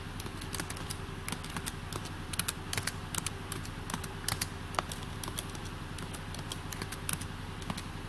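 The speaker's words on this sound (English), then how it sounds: "From there you can go up to search and type in your topic" Steady computer keyboard typing, a quick run of light key clicks with occasional heavier strokes over a faint constant hum, close and moderately quiet with no talking.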